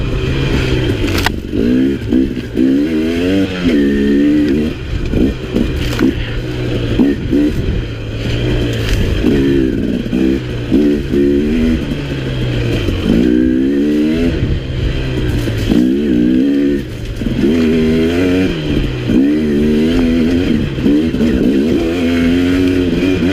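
A 2017 KTM 300 XC two-stroke dirt bike engine holds second gear on a sweeping climbing turn off-road, with close, loud, continuous revving that rises and falls with throttle, plus occasional clatter.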